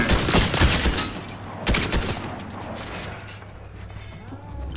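Rapid bursts of gunfire in the video game Fortnite, loud and dense at the start with a sharp crack near the middle, then trailing off into quieter scattered shots, played back during a reaction commentary.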